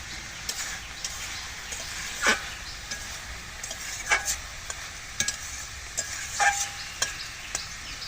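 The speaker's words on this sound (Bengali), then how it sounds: "শাক সুন্দর কিন্তু সিদ্ধ হয়ে গেছে দেখুন।" Leafy greens cooked with fish are stirred in a pan, giving intermittent light scrapes and clinks over a faint, steady sizzle, with nobody talking.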